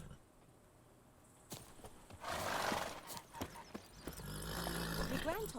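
Horse hooves clip-clopping and a whinny in The Witcher 3: Wild Hunt, starting faint, then growing louder and more rhythmic as the horse speeds up, with a voice talking over it.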